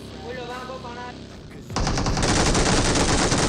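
An MG3 machine gun fires in the BGMI mobile battle game, a loud, dense sustained burst of rapid automatic fire that begins abruptly after a quieter stretch with a short tonal game sound.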